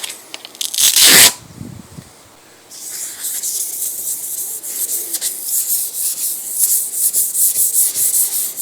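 Hand sanding of a metal part from a Petter AB1 Kango diesel generator with 1000 grit sandpaper: a loud scrape near the start, then steady rhythmic rubbing strokes at close range.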